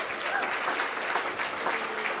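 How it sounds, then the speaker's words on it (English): Audience applause at a panel session, a steady wash of clapping from a seated crowd lasting a couple of seconds at moderate volume with no voices over it. "So another round of applause."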